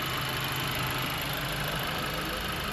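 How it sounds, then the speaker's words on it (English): A Honda turbo engine idles steadily with its wastegate actuator rattling, a continuous close, even mechanical buzz and faint metallic chatter with no voices. "It's the wastegate actuator. It rattles."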